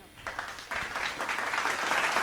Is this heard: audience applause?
yes